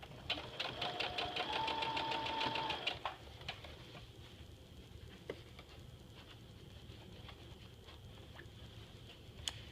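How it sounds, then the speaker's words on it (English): Sewing machine running a second reinforcing stitch along the bottom seam of a fabric stuff sack, a steady rapid whir for about three seconds, then stopping to leave only quiet handling sounds. "I'm doing the reinforcement stitch down at the bottom"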